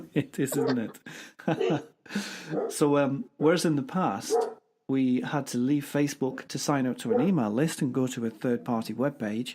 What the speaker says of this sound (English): you can hear my dog barking there in the background